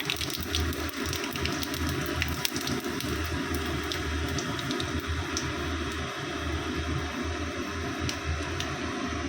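Panch phoron and dried red chilies sizzling in hot oil in a wok, a steady, fairly faint crackling hiss with scattered pops throughout.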